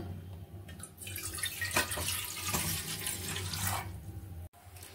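Water runs steadily into a bowl set out for making syrup for rosh bora, a continuous splashing pour lasting several seconds with no talk.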